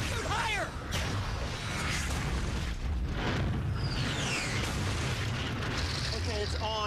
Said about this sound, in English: Today we're trying out the new Shock Blaster from Ratchet & Clank.